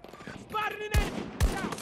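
SVK rifle shots from Battlefield 2042, two loud sharp cracks about half a second apart, heard over a background of in-game ambience and faint tonal sounds.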